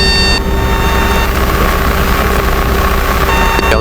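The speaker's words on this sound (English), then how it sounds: "Helicopter sounds good." Robinson R22 helicopter in flight, heard from inside the cabin: a loud, continuous rotor and engine drone with a steady low throb and whining tones, unbroken for the whole stretch.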